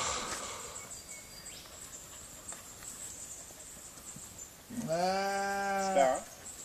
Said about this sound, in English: The sheep won't run away.